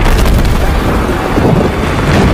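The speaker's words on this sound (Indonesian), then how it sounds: "Tiba-tiba, ledakan besar menghancurkan terowongan kereta yang sudah setengah jadi" A big explosion destroys a half-built train tunnel as a film sound effect, a loud, dense rumbling roar sustained for the whole stretch before cutting off abruptly.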